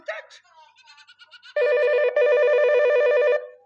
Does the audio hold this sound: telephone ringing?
yes